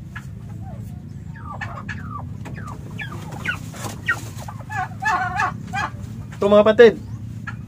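Domestic turkey hens give short, scattered clucks and calls at moderate distance, ending in a louder burst of calling, while someone talks over a low background hum.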